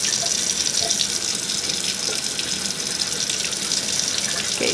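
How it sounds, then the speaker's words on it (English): Water runs steadily from a sink tap, a loud continuous splashing rush that never lets up, with no voices over it. "First, you get your water running to your desired temperature."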